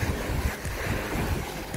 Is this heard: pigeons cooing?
no